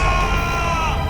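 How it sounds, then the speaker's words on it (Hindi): A man screams in a farm field in a Hindi crime drama: one loud, sustained, strained cry that fills the whole moment, close and raw, with no other voices. "तुम चिल्ला क्यों रहे हो?"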